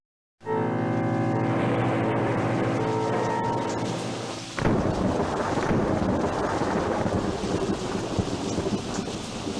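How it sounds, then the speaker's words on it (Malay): Heavy tropical rain and thunder in a cartoon, a loud continuous downpour with a rolling thunder rumble that swells then breaks into a sharp crack midway, rain hissing on afterward. "Hujan lebat macam ni, tentu bahaya."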